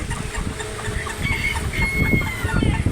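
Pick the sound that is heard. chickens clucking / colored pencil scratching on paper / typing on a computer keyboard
chickens clucking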